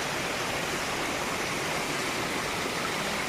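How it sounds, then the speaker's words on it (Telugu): Bugga Waterfalls in deep forest near Wankidi, Kumram Bheem Asifabad district, Telangana, a very large fall giving off a steady, unbroken broadband roar of rushing water that stays even throughout. "కానీ చాలా పెద్ద వాటర్ ఫాల్ అబ్బా"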